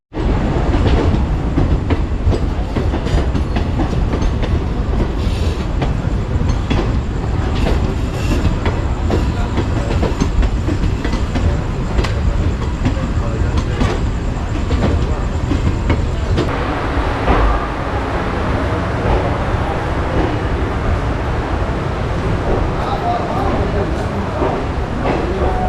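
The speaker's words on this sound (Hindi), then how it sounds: "अपनी ट्रेन साहिबगंज से निकल चुकी है" Vananchal Express departing Sahibganj station at night, with a steady loud rumble of rolling rail cars and wheel clatter throughout, the tone shifting slightly as the train gathers pace.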